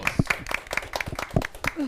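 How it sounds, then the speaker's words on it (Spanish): A small studio audience claps for a guest arriving on a Spanish-language morning TV show, brief uneven clapping with talk over it. "Aplausos."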